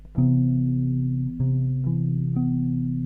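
Sustained low bass guitar notes played one after another in a slow chord-tone arpeggio, each ringing into the next, with the top notes slightly out of tune.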